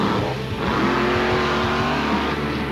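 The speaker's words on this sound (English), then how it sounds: "He was in the throttle a little long that time. You hear it flutter when he went through the air?" A monster truck engine at a Monster Jam event revs hard and flutters while the truck is airborne, a loud, continuous roar with a rising, wavering pitch that stays close throughout.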